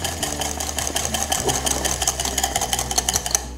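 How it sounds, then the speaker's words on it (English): A whisk beats softened butter that is still slightly cold in a bowl, giving fast, continuous rhythmic scraping and tapping against the bowl close up, with no talk. "I'm just going to break it up with a whisk and really get it going so it starts to whip up a little bit."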